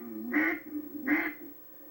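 Two straight quacks blown on a hand-held duck call, each a short, bright, nasal honk about half a second long, spaced roughly a second apart and heard close and clear against a quiet background.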